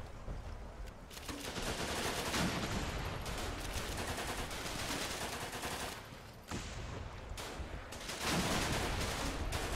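Gunfire in the war game Running With Rifles, with dense overlapping rifle and machine-gun bursts crackling steadily over a battlefield din, briefly dipping around the middle before continuing loudly.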